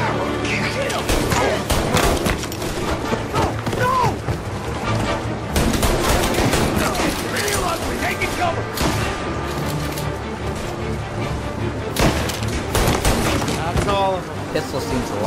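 Pistol and gunfire bursts during a combat shootout in the video game Mafia Definitive Edition, loud and dense for the whole stretch, layered with crashes and thuds under constant game noise and talk.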